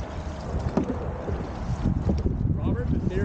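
Canoe paddles pull through the water in repeated strokes as a crew rows, with wind buffeting the microphone and a coach calling out over the splashing.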